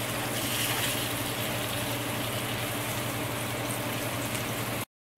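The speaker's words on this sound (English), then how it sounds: "Now we're gonna turn the eggplant on the other side so both of the sides get fried." Eggplant slices fry in a pan for a crab curry meal, making a dense, steady sizzle and crackle of hot oil close by. The sound stays constant, then cuts off abruptly near the end.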